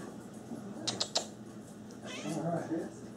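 A stray cat meows faintly at a home during Christmas present opening, a drawn-out call near the end mixed with a few sharp clicks and quiet background voices.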